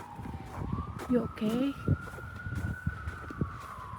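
A distant police car siren wails outdoors during a winter storm, its long slowly rising and falling tone running under close talk and footsteps in the cold.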